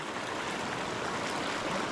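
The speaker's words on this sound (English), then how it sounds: "because of this turbulent water, real choppy stuff, I can get in close" Turbulent, choppy pocket water in a trout stream rushes as a steady, close broadband wash with no breaks and no voices.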